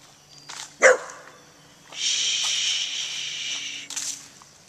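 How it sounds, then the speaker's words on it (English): Dogs barking outdoors: a sharp close bark, then a sustained high whining yelp and another burst, fairly loud with quiet gaps between. "there's dogs barking in the background"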